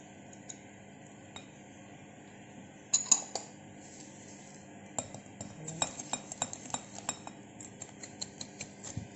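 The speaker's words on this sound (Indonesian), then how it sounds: "Sekarang gula kita masukkan, kita aduk sama mentega." Spoon clinking against a bowl while sugar is stirred into butter for a tapai cake, quiet at first, then a steady run of close, light scraping taps and chinks with no voices.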